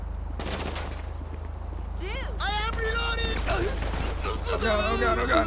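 Gunfire in GTA Online, bursts of rapid automatic shots mixed with single cracks and mechanical clatter over a steady engine-like drone, with a voice speaking in between the shots.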